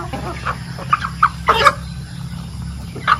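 Chickens cluck in a series of short, sharp calls at varying distances over a low background hum, a few close bursts bunched in the middle and one more near the end, with no talk.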